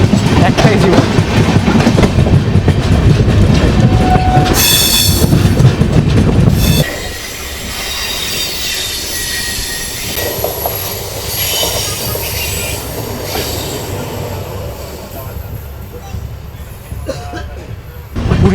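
The Puri Gandhidham weekly SF Express rolls toward Khurda Road Junction with a loud, heavy rumble that drops to a steadier clatter, wheels squealing high above, and a voice occasionally heard.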